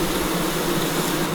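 Bees buzzing around an opened hive of once-wild honeybees, a dense steady hum close by that fills the whole moment without pause and with no voices.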